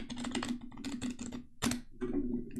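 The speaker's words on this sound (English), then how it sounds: "Just gonna do some shuffling." Quick, crisp riffling bursts of new playing cards being shuffled close up, several runs in a row with short gaps, over a steady low hum.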